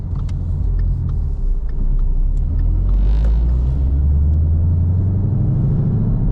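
A 2017 Ford Mustang GT V8 fitted with a cargo carrier drives along, a deep, steady low rumble heard from inside the car, with light clicks and rattles above it.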